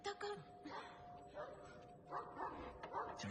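A dog barks and yips in a Pakistani horror film scene, several short barks spread across the moment, mid-distance, mixed with ambient sound and some voices.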